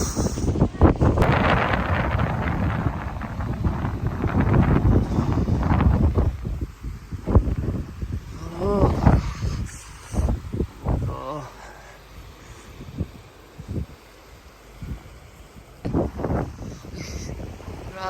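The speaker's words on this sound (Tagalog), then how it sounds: "Nagising po tayo sa napakalakas ng hangin." Strong, storm-like wind roars and buffets the microphone on a fishing trip, loudest at first, with people talking intermittently over the gusts.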